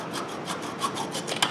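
A cheap $2.99 hand saw rasps back and forth through wood, a steady run of rhythmic rubbing strokes, close and moderately loud with no talking.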